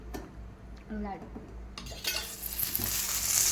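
Chillies dry-roasting in a pan for a red masala, a quiet scrape and stir at first, then a brightening sizzle and clatter building toward the end, with no speech.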